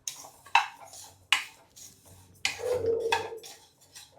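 Metal clinks and scrapes of a spoon stirring cumin seeds as they roast dry in a pan for traditional sambar powder. Several sharp taps come at uneven intervals, followed by a longer scraping stretch, close and fairly quiet.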